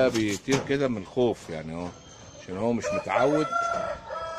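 A rooster crows in a couple of drawn-out calls at an open zoo park in Ukraine, close by and loud, while someone talks over and between the crows.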